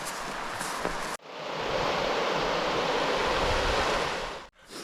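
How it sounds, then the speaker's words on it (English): Water flowing in a stream on Cross Fell, a steady loud broadband rush filling nearly the whole stretch with no talk, broken by brief abrupt cutoffs near the start and end. "There's a bit more water flowing."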